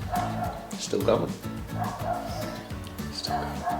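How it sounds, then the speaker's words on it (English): A dog barks and yips repeatedly in the background of a woodworking shop, the barks coming in a steady run beneath constant nearby talk. "Sorry about the dog barking in the back."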